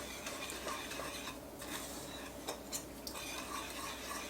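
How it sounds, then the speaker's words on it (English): A whisk working cocoa powder, sugar and heavy cream together into a chocolate syrup mixture in a saucepan, a steady, close scraping swish with a few light taps against the pan. "We are going to whisk this all together until it's smooth."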